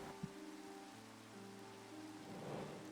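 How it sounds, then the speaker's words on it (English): Steady rain hisses in a Minecraft game world, a dense broadband wash that swells slightly near the end, with a faint low tone and one brief knock early on. "The rain's really loud."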